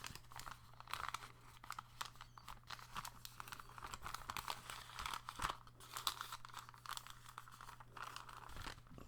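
Paper being folded and handled up close, with soft crinkling, rustling and small crunchy creases in irregular bursts at low volume over a faint steady hum.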